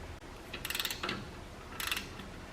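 Ratchet loosening 13 mm caliper bolts on a VW Golf MK7, two short bursts of quick clicking ratcheting, fairly faint and close, with a light knock between and no talking.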